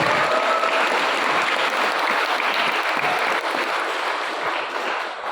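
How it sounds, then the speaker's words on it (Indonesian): An audience at a school Christmas celebration claps in steady, dense applause, loud and continuous, fading slightly near the end. "Tepuk tangan untuk Pak Bupati."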